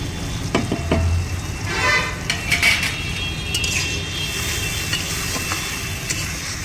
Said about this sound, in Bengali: এটা এখন 2 মিনিটের মতো ভালো করে কষিয়ে নেব।